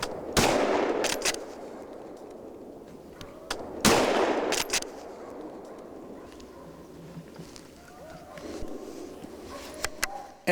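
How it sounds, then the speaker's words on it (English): Rifle gunshots on a driven wild boar hunt, two loud, sharp cracks a few seconds apart echoing through open country, followed by quieter ambient noise and faint distant sounds. "Erik has a very good start and kills his first Überläufer with 2 shots in the lungs."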